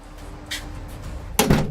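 A car door opening during a protective team drill, a short metallic latch click followed by a louder clunk near the end, close by and otherwise quiet.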